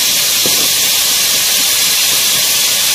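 Garlic, ginger and ground spices fry in hot oil for chana dal kofta, a loud, dense, unbroken sizzling hiss with a faint tap early on.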